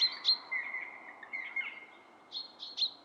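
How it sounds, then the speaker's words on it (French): Songbirds in a wooded valley call in clear, high chirps and short trilled phrases, fairly near and repeating in small bursts with quiet gaps between. "je sais pas si vous les avez entendus, mais il y avait de nouveau les oiseaux"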